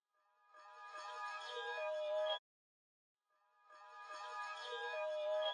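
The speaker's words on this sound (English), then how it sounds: "Pretty much all I did was reverse it and then pitch it to the right key." Reversed synth phrase pitched to key, heard twice as two swelling passes that build gradually and cut off abruptly, with a short gap of silence between them, close and clean.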